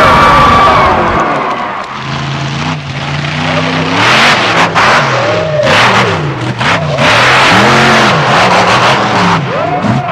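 The Executioner monster truck revs hard and spins donuts in an arena, its loud, roaring engine rising and falling repeatedly while a crowd cheers faintly underneath.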